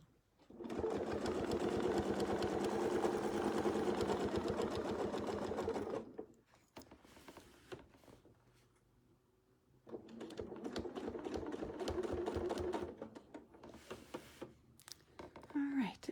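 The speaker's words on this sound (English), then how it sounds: "Just lift this up and you'll be able to sew right across your boundary" A sewing machine stitches across a quilt block boundary in two steady bursts of rapid, even mechanical chatter separated by a pause with quieter handling noises.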